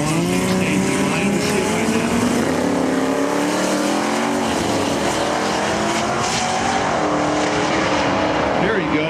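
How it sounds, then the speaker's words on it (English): A turbocharged 1974 Datsun 240Z with a 151 cubic inch engine accelerates on a run, its engine note rising and sweeping in pitch as it pulls hard, loud and sustained, with crowd and commentary noise underneath. "It's a 240Z car from 1974 with only 151 cubic inch engine, and so it's turbocharged."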